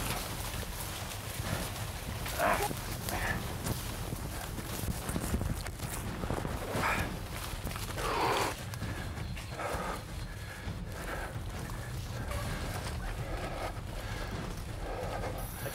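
Hunting dogs bark intermittently in the distance amid rustling and footsteps through brush, the barks faint and scattered over a steady outdoor background.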